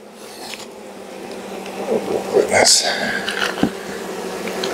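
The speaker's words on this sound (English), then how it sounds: "Let's try and get the bees off the best I can." Honey bees buzz close by during a honey harvest, a droning hum under scraping and handling noises from a beekeeper, with brief bursts as insects pass near.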